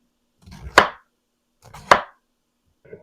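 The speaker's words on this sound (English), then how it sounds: "we're going to go ahead and cut up our cabbage. Just into bite-sized pieces." A knife chops through cabbage into bite-sized pieces on a cutting board, two crisp separate chops with a short pause between them and a faint third tap at the end, close and clear with no talking.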